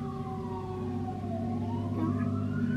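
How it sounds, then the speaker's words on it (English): A fire and rescue vehicle's siren passing by, its steady wailing tone sliding in pitch over a low rumbling engine, fairly loud and continuous. "I think there's a fire truck coming by."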